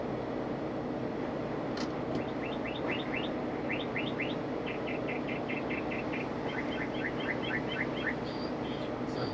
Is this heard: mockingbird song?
yes